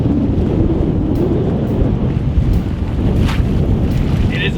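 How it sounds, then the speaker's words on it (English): Strong wind roars and buffets the microphone in a loud, steady low rumble throughout, with no talking, on a nasty day while shallow walleye fishing in fall. "It is obviously just an insanely windy, nasty day out."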